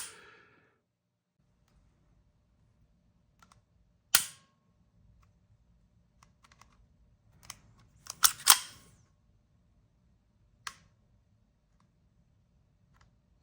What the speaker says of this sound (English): Here's the reset again. it has a really positive reset. Like it really pushes the trigger back out.